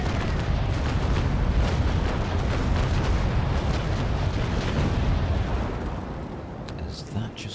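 Ship cannon fire in the age-of-sail naval game Naval Action, a dense, loud rolling barrage of booming broadside shots that rumbles continuously before tapering off at the end.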